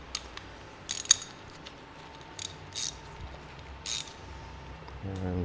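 A ratchet wrench loosens bolts on a 2020 Moto Guzzi V7 III Special during an oil change, giving several short, soft clicking bursts spaced apart over a low background hum, with a quicker run of ratcheting clicks at the end.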